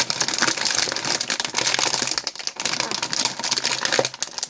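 A bag of Ogamja BBQ potato snacks gets torn at, its plastic rustling and crinkling loudly and close in uneven bursts, with no talk.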